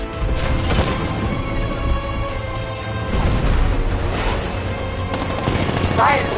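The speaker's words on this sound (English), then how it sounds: "60mm cannon operational" Rapid, heavy bursts of 60mm tank cannon and gunfire in a Batman video game crash repeatedly over a dense, continuous battle din, loud and close throughout.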